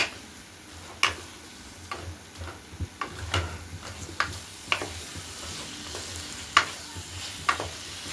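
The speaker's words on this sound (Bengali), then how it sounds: "সেই কাটা আলুটাকে দিয়ে দিলাম দিয়ে মশলার সাথে ভালোভাবে মিশিয়ে নেব" Cut potatoes tossed in hot oil with spice masala, low sizzling under a run of irregular sharp clicks and taps from a spoon working against the pan, close by.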